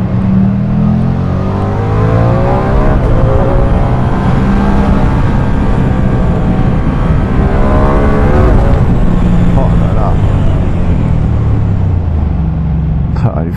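A Ducati Streetfighter V2 with its Superquadro twin engine is ridden at speed, loud close engine drone rising and falling in pitch through gear changes, with a rider speaking over the steady roar and wind.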